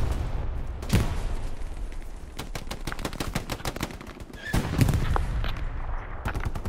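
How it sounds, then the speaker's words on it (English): Machine gun fire in the WWII shooter Hell Let Loose, a heavy gun firing from an upper floor, rattling in fast bursts with scattered single shots and distant booms across the whole stretch. "I got an enemy machine gun on that top floor."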